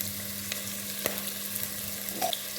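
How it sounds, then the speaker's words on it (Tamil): Ginger garlic paste sautéing in a pan for a home-style cuttlefish fry, giving a steady low sizzle and frying hiss with a couple of faint stirring taps, close and alone. "எல்லாத்தையும் போட்டு நல்லபடியாக வதக்கி எடுக்கணும்."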